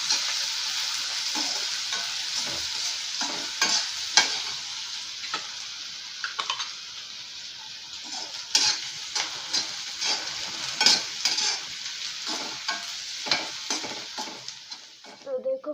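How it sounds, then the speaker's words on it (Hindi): Onions fry toward brown in a pan, a bright, even hiss of hot oil with frequent scraping and tapping stirs throughout, fading slightly at the end, with no voices. "और अब प्याज को भी थोड़ा सा ब्राउन कलर आने तक भून लेंगे"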